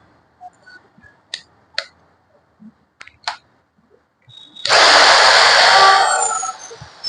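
A Gaocheng 2200W heavy-duty metal-body concrete vibrator with a three-metre needle starts after a few faint clicks and taps, then whines in a loud, steady high-pitched buzz that tapers off near the end.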